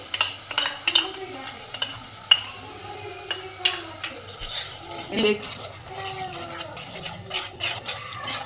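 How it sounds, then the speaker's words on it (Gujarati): A spoon stirs curd gravy into a sizzling paneer curry in a pan, with repeated close scrapes and clinks of metal on the pan over a continuous frying hiss. "મિક્સ કરી લેવાની"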